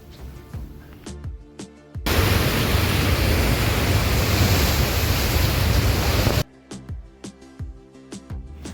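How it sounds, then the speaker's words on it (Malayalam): Water released from Malampuzha dam in Palakkad rushes out with force, a loud, steady, broadband roar lasting several seconds, with background music before and after it. "ഡാമിലെ വെള്ളം നല്ല ഫോഴ്സിൽ ഒഴുകി പോകുന്നതാണ്."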